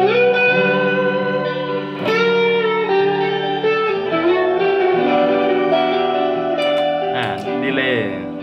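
An electric guitar plays sustained, ringing notes through a Line 6 M13 effects unit with reverb applied. Chords and single notes blend into a washy tail, loud and close throughout.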